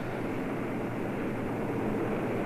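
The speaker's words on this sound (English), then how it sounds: "Here comes the Luftwaffe. In dozens of flights, hundreds of planes," WWII German Luftwaffe bombers and fighter planes crossing the English Channel in mass formation, heard as a loud, unbroken, dense roar of aircraft engines that stays level throughout.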